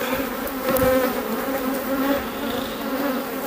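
Honeybees buzz in a dense, continuous drone during an inspection of a hive's supers and brood body, the swarm close and loud throughout.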